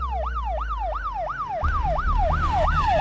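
An ambulance siren wails in a fast, regular rising and falling cycle. It is loud and fairly close, with road rumble under it that grows louder near the end.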